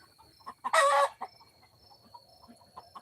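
Young chickens cluck nearby, with one loud, harsh squawk standing out among scattered softer clucks.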